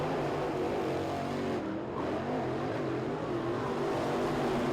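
Race cars in a B-main heat at the 2021 Winter Nationals roar continuously around the track at night, a dense, steady engine drone with shifting pitch as they run down the back straightaway.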